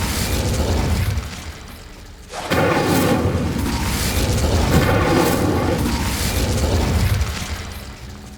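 A fire spell cast in Hogwarts Legacy erupts as a loud booming burst after a brief lull, followed by a sustained roaring, crackling blast that fades near the end.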